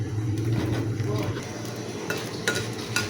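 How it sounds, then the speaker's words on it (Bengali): Dry red chillies lightly roasting and being stirred in a pan, a soft sizzle with scraping spatula strokes against the metal and a few sharper clinks near the end, close and moderately loud. "আমি শুটকি ভর্তার জন্য শুকনো মরিচটাকে একটু হালকা টেলে নেব।"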